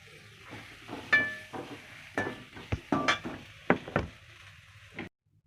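Pieces of pirandai (adamant creeper) being sautéed in a pan for podi, giving a quiet kitchen bed of faint sizzle broken by a series of irregular clinks and scrapes of a utensil against the pan.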